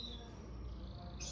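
A canary in a breeding cage gives a short, faint twittering chirp against a soft background hum, with no speech.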